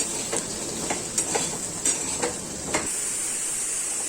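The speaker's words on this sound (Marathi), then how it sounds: "त्यात टाकते थोडीशी हळद चवीपुरतं मीठ मिक्स करून घेते" Okra sautéed with turmeric and salt in a pan makes a steady, fairly quiet sizzle. A spoon scrapes and taps against the pan in a series of short, irregular strokes, then the sizzle carries on alone.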